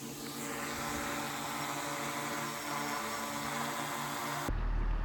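A drone in flight over open country hums steadily with a dense whine, close and continuous for about four and a half seconds before the tone cuts off abruptly into a rougher low rumble, with no talk.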